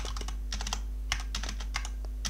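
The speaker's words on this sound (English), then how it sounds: "so let's just type it out manually" Fingers type on a computer keyboard in quick irregular bursts of clicking keystrokes, close and fairly quiet over a low steady background hum.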